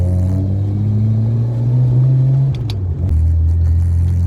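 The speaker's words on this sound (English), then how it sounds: "This car is very loud inside." Inside the cabin of an R31 Skyline with an RB30 straight-six on a straight pipe, a loud droning engine rumble and differential whine hold steady, then dip and drop lower as the revs change, with no talk.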